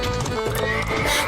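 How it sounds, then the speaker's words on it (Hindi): A horse pulling a cart neighs loudly and close, over quick clip-clop hoofbeats, in a short burst with no speech. "घोड़ा भागने लगा तो गेंदा डर गया।"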